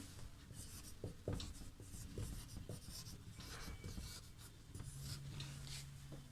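Chalk or marker scratching across a board in a Sanskrit class, short rhythmic strokes with taps and pauses, faint and close, with no talking.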